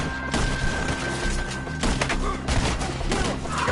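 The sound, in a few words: gunfire shooting enemies in trees, from a PS4 video game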